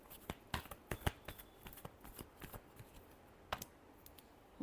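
Tarot cards are shuffled by hand in soft, irregular riffles and taps, close and quiet, with a few sharper snaps among them.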